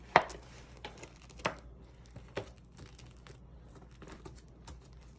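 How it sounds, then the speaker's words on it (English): A Velcro strap on a jacket is pressed closed, giving a few crisp, crackly bursts close by with quieter rustling between them and no talking. "And then this just Velcros back up."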